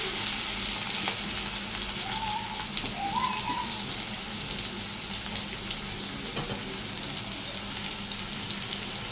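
Chopped garlic with dried chilli fries in hot oil for a Bengali pabda fish curry, a steady close sizzle and crackle with a few faint clinks and brief higher squeaks, and no one speaking.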